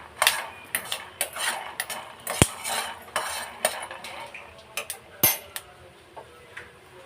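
Peeled peanuts roasting in a pan are stirred with a metal utensil, giving irregular scraping clinks and sharp taps against the pan over a quiet background, close and moderately loud.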